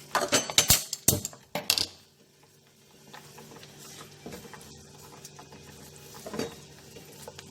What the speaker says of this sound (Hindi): छोले डालने के बाद में इसको जो है वो करूँगी, हिलाऊंगी और छोलों को भी इस मसाले के साथ थोड़ा सा भूनूंगी।